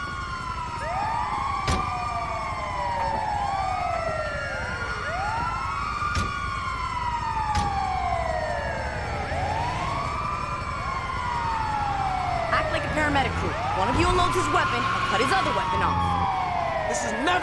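Several wailing sirens sweep up and down together during a getaway by ambulance in the video game Grand Theft Auto V, loud and continuous, overlapping one another, with clicks and street noise mixed in.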